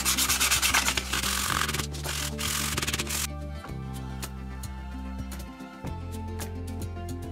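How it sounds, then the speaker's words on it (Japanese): Sandpaper rubs steadily over a wooden knife handle coated with urethane varnish, smoothing the surface. A dense, loud scraping opens the sound, then quieter rubbing continues over a steady tonal background. "木目の溝や突起にウレタンニスが浸透したので削って平滑にします。"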